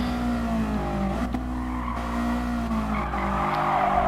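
A race car in GT Sport brakes hard into a corner with a loud engine drone and a sustained tire squeal held over it. The skid carries on steadily for several seconds, and no one speaks.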